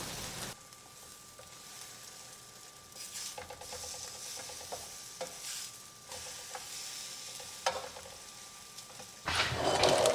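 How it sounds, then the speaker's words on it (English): French toast cooking in a pan gives a steady, moderate sizzle for about ten seconds, with faint clinks and scrapes now and then and a louder rush of noise near the end. "While I'm waiting for the French toast to cook"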